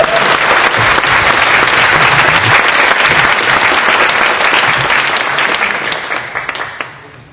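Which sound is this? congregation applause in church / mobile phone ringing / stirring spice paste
congregation applause in church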